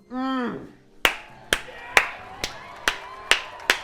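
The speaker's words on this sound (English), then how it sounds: "Round of applause for yourself there, Brad." A few sharp hand claps, about seven, spaced roughly half a second apart in a home kitchen during a smash burger cook, coming right after a short drawn-out vocal exclamation.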